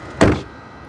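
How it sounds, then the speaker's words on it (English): Door of a 2025 Mazda CX-70 PHEV Premium shutting: a single solid, muffled thunk, close and brief, fading quickly into quiet. "let's listen to the sound of the closing door."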